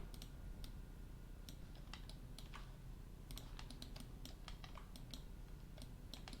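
Typing on a computer keyboard at a 3D car modeling workstation, a scattered series of light, crisp key clicks in an uneven rhythm over a steady low hum, faint and alone.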